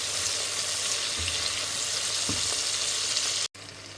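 Tomatoes sizzle and fry in a pan, a steady close crackle with a couple of soft stirring scrapes, then a brief drop to near silence before the frying resumes.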